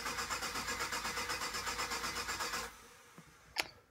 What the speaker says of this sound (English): So what I'm going to do is crank the engine over,